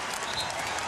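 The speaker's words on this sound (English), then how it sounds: "Standing ovation for Iverson." A basketball crowd at Game 5 of the 2001 NBA Finals, Lakers vs 76ers, gives Allen Iverson a standing ovation, a steady wash of distant applause and cheering with no break.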